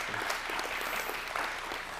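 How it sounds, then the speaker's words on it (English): A short burst of applause from an audience, steady clapping at moderate volume. "Round of applause again for his comments tonight."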